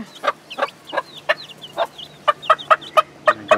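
Hen clucking to call her young chicks, a close series of about fifteen short, sharp clucks, spaced at first and then quicker and more regular toward the end.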